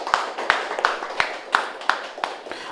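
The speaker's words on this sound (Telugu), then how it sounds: "ఒకసారి గట్టిగా చప్పట్లు కొడదాం." Audience at a Hyderabad film promotion event clapping together in steady, evenly spaced claps, about two per second, bright and close, with no other sound over them.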